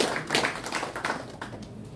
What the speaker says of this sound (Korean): 큰 박수 해주시면 고맙겠습니다.